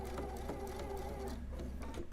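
A sewing machine runs steadily, stitching a quilt seam in a continuous close mechanical whir with a rapid needle rhythm, loud and alone throughout.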